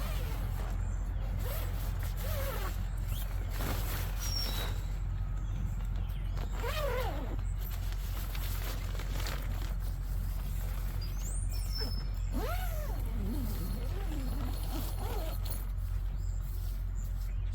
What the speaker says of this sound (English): Let's find our zipper.